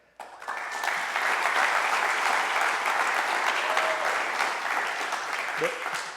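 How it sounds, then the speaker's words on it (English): A sustained round of applause from a conference audience, starting suddenly and holding steady and full for several seconds, with faint talk near the end. "ask for another round of applause for Mike and Gary"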